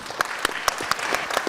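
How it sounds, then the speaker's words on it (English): Audience applause at a conference panel on mobile money and financial inclusion: a steady patter of clapping hands from a crowd, moderately loud with a few sharper claps standing out. "Round of applause, please."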